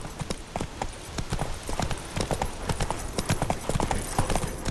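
Hooves of the horse Roach clip-clop in a quick, steady trot in The Witcher 3, close and distinct under a busy background.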